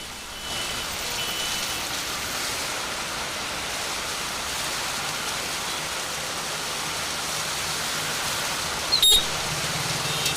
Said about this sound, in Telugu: హైదరాబాద్ లో మళ్లీ వర్షం దంచి కొడుతోంది.